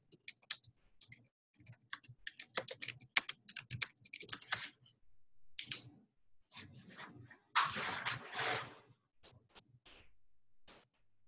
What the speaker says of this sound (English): So Rose will enter her user ID and password